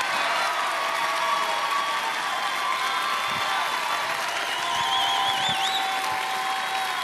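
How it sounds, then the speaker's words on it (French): A French TV game-show studio audience applauds the winners, a sustained wash of clapping under music and a faint whistled or sung tone, steady in level throughout. "Applaudissements, mesdames et messieurs"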